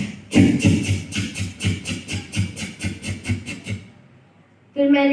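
A voice imitates a train with a rhythmic series of breathy chugging puffs, steady and fairly close, slowing and fading before a brief voiced sound at the end.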